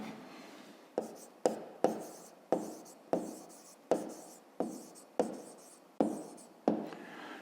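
A pen or chalk writes out a maths answer in a fifth-grade lesson, sharp strokes tapping in a steady series of about a dozen, close and clear with no talk.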